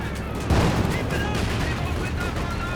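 Artillery barrage from two German LEIG infantry guns in Company of Heroes 2, a sudden loud burst of booming gunfire about half a second in, then sustained rumbling impacts and battle noise for the rest of the clip.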